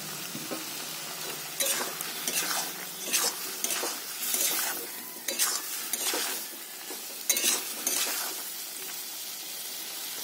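Jackfruit and potato sizzle while frying in a pan, with repeated scraping strokes of a spatula stirring at an irregular rhythm, close and fairly loud, with no talking.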